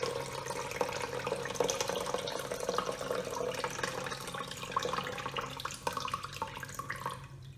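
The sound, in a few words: water draining from poha (flattened rice) being washed by hand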